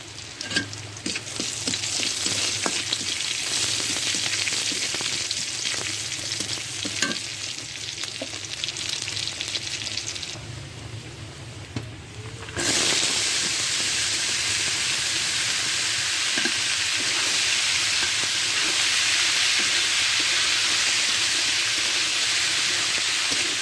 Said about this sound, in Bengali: পেঁয়াজ কুচি দিলাম কালো জিরা দিলাম